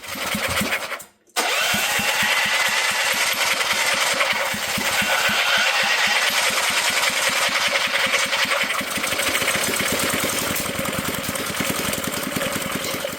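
A seized generator engine cranks, catches after a brief pause and settles into a loud, steady running chug with a rapid even beat that carries on close by.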